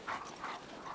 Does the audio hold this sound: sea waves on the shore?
no